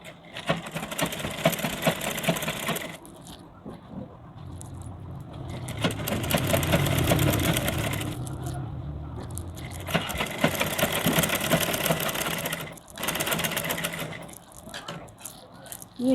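A sewing machine stitches a blouse sleeve in several bursts of rapid, steady whirring, close by, with short pauses between runs.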